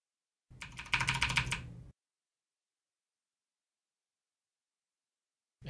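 Quick burst of computer keyboard key presses, a short clicking cluster lasting about a second and a half, close and clear, followed by silence and a faint thump at the end.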